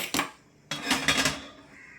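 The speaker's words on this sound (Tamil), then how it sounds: "அடுப்பத்தை வச்சு குக்கர் ஒன்று வச்சுக்கலாம்." Metal pressure cooker set down on a stove, two clanking knocks of metal on metal, one brief then a longer ringing clatter, close and fairly quiet with no talk.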